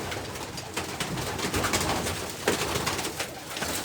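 Pigeons coo close by, soft throaty rolling calls repeating over a low background murmur.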